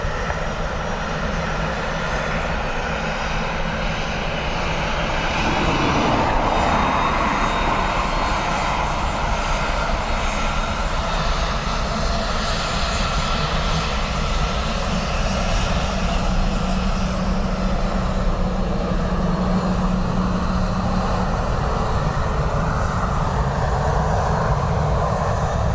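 A business jet landing at Dublin Airport, its engine roar loud and steady throughout, a continuous broad rumble with no voices.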